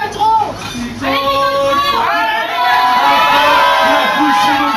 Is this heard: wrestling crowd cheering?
yes